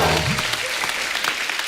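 Applause from a studio audience at a Hindi TV comedy show, a dense burst of clapping that swells up and then holds steady for the whole short stretch.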